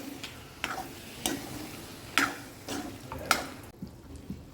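Boiled lilva beans are stirred into a simmering gravy in a pan, with a steady soft sizzle broken by several scraping, clinking spoon strokes against the metal at irregular intervals, close and fairly quiet.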